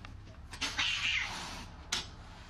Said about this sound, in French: Les 2 mâles se livrent une guerre permanente.